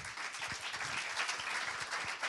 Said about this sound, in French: Je vous demande de l'applaudir vraiment chaleureusement